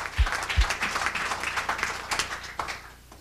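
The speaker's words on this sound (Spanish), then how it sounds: "Denle un aplauso a Jesús." A church congregation applauds, giving a round of clapping for Jesus in a worship service; the applause swells and fades unevenly, with two heavy low thumps near the start and faint voices under it.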